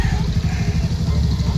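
A motorcycle engine runs steadily close by on a rural farm, its low throbbing rumble continuous throughout with no gaps.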